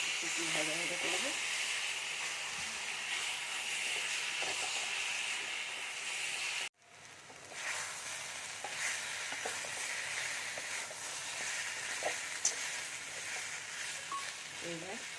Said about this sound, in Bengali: মিক্সিতে করে রাখা টমেটো পেস্ট দিয়ে দিলাম। পেস্টটা সুন্দর করে লাগিয়ে নেব, একটু ভাজা ভাজা করবো